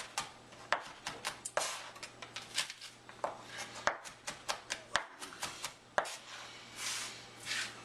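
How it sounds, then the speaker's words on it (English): A knife crushes garlic cloves, then minces them on a cutting board in a fast run of sharp, close chopping taps, irregular but steady, with an occasional heavier crush and light scraping, no voices. "I'm going to crush the garlic and give it a quick mince"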